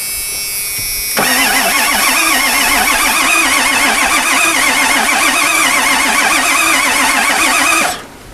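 A 1997 Ford pickup that sat for ten years cranks briefly, catches, then runs with a steady, loud, slightly wavering drone for about seven seconds before shutting off.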